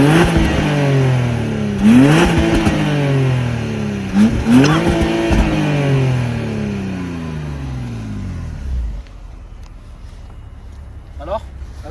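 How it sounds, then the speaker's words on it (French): Six-cylinder engine of a BMW 325i E90 revving while parked, rising and falling in loud repeated swells before settling to a low idle, then cutting off near the end. "je vais vous faire écouter le petit 6 cylindres"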